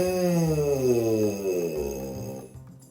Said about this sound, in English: try buzzing up and down through your registers in what I like to call the siren